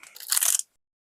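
A single crisp crunch of teeth biting into a Crunchie honeycomb chocolate bar, short and bright, then silence.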